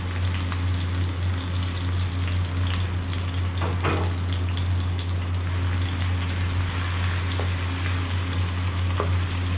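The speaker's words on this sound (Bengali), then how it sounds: "দিয়ে দিচ্ছি পেঁয়াজ দিয়ে দেব আদা রসুন দিয়ে দিচ্ছি কাঁচামরিচ" Chopped onion, ginger, garlic and green chilies sizzle in hot oil for a Bengali fish curry, a dense, steady crackle close up with a few sharper spits and a constant low hum underneath, no voices.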